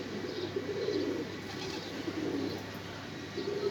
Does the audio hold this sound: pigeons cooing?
yes